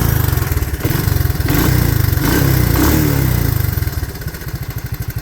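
A Honda 185S motorcycle engine runs steadily close by, a loud, even mechanical chug with little clatter and slight swells in revs, heard alone.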